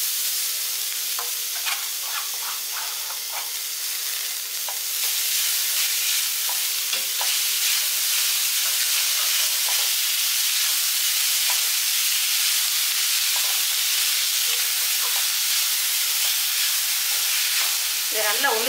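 Flattened rice (aval) being stirred and sautéed in a pan with a steady sizzling hiss, punctuated by repeated scraping and clicking strokes of the spatula close by, with no talking.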